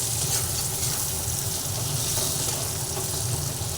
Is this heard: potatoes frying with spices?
yes